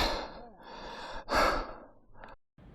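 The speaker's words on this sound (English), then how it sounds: "Whew. Tiring. I'm panting." A rider on a BMW 1300 GS breathes out in heavy, close sighs and pants after a tiring motorcycle ride, several breaths in under three seconds, loud and near, with a brief pause before the last one.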